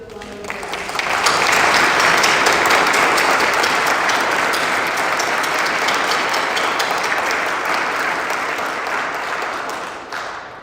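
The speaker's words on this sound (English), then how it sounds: "So please stand up, board members, and give a round of applause." An audience applauds board members at an Animals in War & Peace medal ceremony at the U.S. Capitol, dense, loud sustained clapping that swells in and runs about nine seconds before fading.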